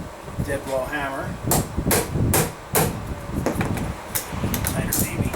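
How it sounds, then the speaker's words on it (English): Dead blow hammer striking during a Ram 2500 V-10 to 6BT diesel engine swap, several sharp knocks spaced irregularly over workshop noise, with talk in between. "Dead blow hammer."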